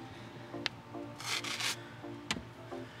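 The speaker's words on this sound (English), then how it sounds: "I'm using the long scrub paddle with this white scrub pad." A white scrub pad on a long scrub paddle rubs old window tint adhesive off a car window, giving a few short scraping strokes and one longer gritty scrubbing burst, close and fairly quiet.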